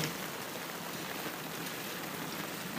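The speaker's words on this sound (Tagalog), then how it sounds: "bumuhos ang ulan" Heavy rain pours down during a trek toward Hulugan Falls in Luisiana, Laguna, making a dense, steady hiss of falling water with no voices.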